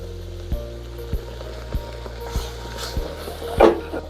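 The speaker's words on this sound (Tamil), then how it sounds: "அப்படியே கை விடாமல் கிண்டிக்கணும்." Roasted wheat flour and ground moong dal are stirred in a pan, with soft, regular scraping taps about every half second over a low background hum and a brief louder scrape near the end.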